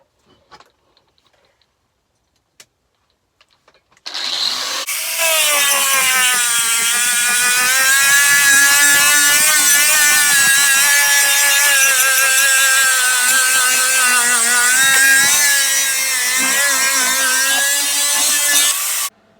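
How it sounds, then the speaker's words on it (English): After a few seconds of near silence, a loud steady whir from a fan running during sanding, with a rough grinding edge, starts abruptly and runs on without pause until the end. "As you can probably hear, I did put the fan on."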